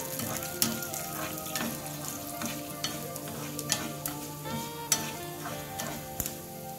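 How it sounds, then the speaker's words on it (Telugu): Tempering of urad dal, fenugreek seeds, asafoetida and mustard seeds sizzles steadily in hot oil for a tamarind amaranth stew, with close, crisp crackles and sharp pops scattered throughout. "పోపుని పూర్తిగా వేయాలి."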